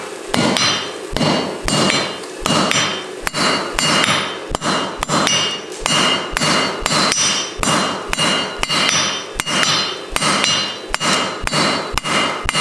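Heavy hammer blows forge-weld rebar tongs at welding heat, a loud, close, steady rhythm of ringing strikes, roughly two per second, sustained throughout.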